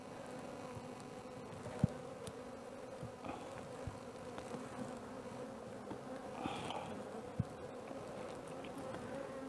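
Honey bees buzz steadily over a sealed brood frame with eggs during hive inspection for queen rearing, a continuous close hum with a few brief louder passes of individual bees.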